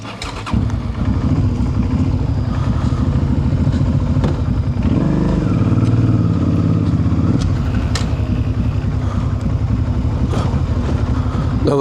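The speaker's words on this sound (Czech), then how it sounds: "Motorky už lietajú." Motorcycles at a bike festival, Euro Bike Fest, fill the scene with loud, continuous engine roar, layered revving and passing bikes that rise and fall without a break.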